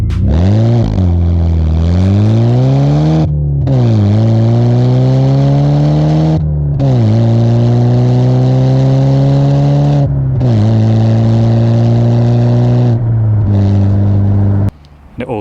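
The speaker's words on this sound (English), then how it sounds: "Around the back as well we have my custom Catback exhaust system." BMW Z4 with a custom catback exhaust revving repeatedly, loud and close, each rise in engine pitch followed by a drop back toward idle across several throttle blips.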